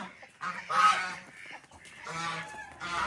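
Several loud, nasal honking calls from waterfowl, coming in two bursts with a short lull between, fairly close and without any talk.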